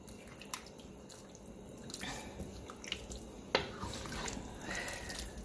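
A spoon stirs beef and vegetable soup in a pot with soft, intermittent scraping and sloshing, quiet and close, plus a couple of sharper clinks against the pot.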